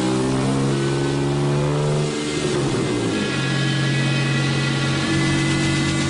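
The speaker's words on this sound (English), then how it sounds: "Using a machine called the dynamometer, Ron's team put the Scorpion through its paces." A 2008 Ronn Motor Company Scorpion sports car engine revs hard on a dynamometer, a loud sustained drone that drops in pitch midway and then climbs again, with no voices.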